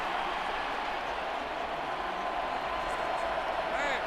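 In-game stadium crowd in Madden 24 during a Las Vegas Raiders versus Jacksonville Jaguars matchup, a dense, steady roar of cheering that holds at an even level throughout.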